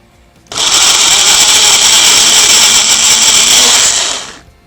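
Chopped ash gourd whirs in an electric mixer grinder, a loud high-pitched motor roar that starts abruptly, holds steady for about four seconds, then winds down, with no talk over it.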